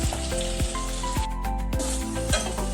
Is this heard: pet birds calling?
no